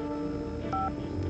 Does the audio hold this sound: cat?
no